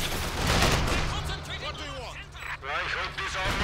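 Gunfire in the real-time strategy game Company of Heroes 2 as Soviet infantry squads attack: a dense, continuous rattle of shots and battle noise runs throughout, with someone talking over it.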